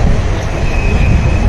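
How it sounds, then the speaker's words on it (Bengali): An Indian passenger train running from Kolkata to Murshidabad gives a loud, continuous rumble with steady wheel noise and a thin squealing tone, heard close from inside the carriage. "আমাদের ট্রেনের টাইম ছিল 12:40, জাস্ট 12:40-এ এখানে ট্রেন ছেড়েছে।"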